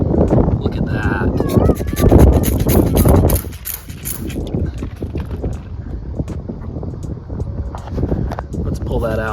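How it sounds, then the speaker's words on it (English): Strong wind buffets the microphone on a gravel bar along the Yellowstone River, a loud continuous roar with gusts, heaviest in the first few seconds, mixed with bits of movement and voices. "we're down at a new gravel bar and it is super windy"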